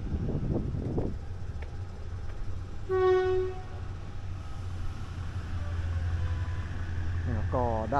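Ordinary passenger train 259 at a Thai station, Thonburi to Nam Tok service, sounds a clear sustained horn blast while departing over a steady low engine rumble, with a second shorter horn toward the end and a voice talking early.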